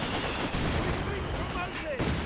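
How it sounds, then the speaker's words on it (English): Mortar pit shelling in the World War II strategy game Company of Heroes 2, a dense wash of distant battle with rumbling impacts and scattered shots running continuously. "the mortar pit getting some big hits in there"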